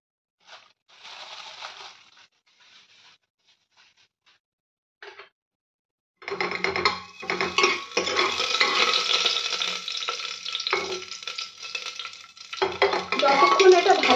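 Whole cumin seeds with a broken dried chilli hit hot ghee in a pressure cooker, a few light taps first, then a dense crackling sizzle with stirring scrapes that keeps going.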